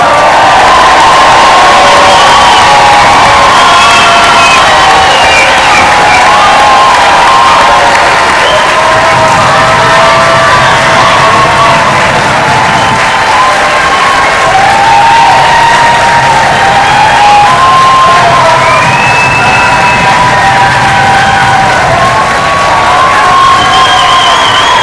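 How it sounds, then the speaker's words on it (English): A large audience at a veterinary white coat ceremony gives loud, sustained applause mixed with cheering, whoops and shouts that overlap and swell throughout. "please stand and turn to face the audience for a resounding round of applause"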